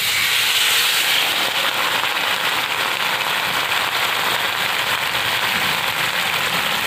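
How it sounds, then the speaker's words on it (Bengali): Water poured onto potatoes frying in a pan makes a loud, steady, bright steam hiss and sizzle that holds for several seconds, with no voices. "জল দিয়ে দিচ্ছি বন্ধুরা আলুতে।"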